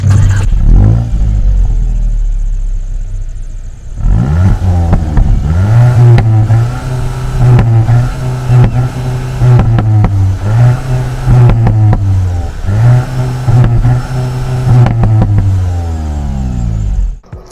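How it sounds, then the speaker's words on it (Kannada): A Volkswagen Golf GTI engine starts with a short crank, settles into a steady idle, then revs repeatedly through several rising and falling sweeps, loud and close by, with no talking. "ಗಾಡಿ ಇಂಜಿನ್ ಸ್ಟಾರ್ಟ್ ಸ್ಟಾಪ್ ಬಟನ್ ಇಲ್ಲಿದೆ ಸ್ಟಾರ್ಟ್ ಮಾಡ್ತೀನಿ"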